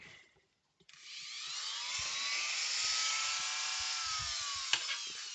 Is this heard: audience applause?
no